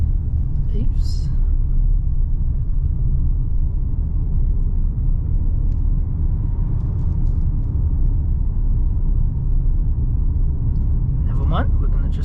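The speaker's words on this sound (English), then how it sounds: "I think in the video you're going to notice a lot of cabin noise." Steady low road rumble and engine drone inside the cabin of a 2022 MG HS PHEV plug-in hybrid SUV at highway speed, loud and continuous throughout with a couple of faint brief sounds.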